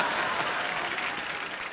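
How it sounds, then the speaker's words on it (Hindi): Steady, dense applause from a studio audience on a Hindi comedy talk show, filling the moment evenly with no voices rising above it. "ठोको ताड़ी, ठोको ठोको जोर से"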